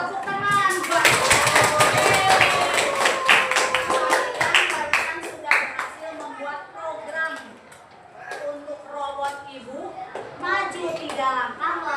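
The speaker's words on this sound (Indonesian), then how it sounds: "Tepuk tangan." A class of young pupils claps hands during a coding lesson, with a burst of quick, sharp claps near the start, then scattered claps mixed with lively children's voices chattering and calling out throughout the room.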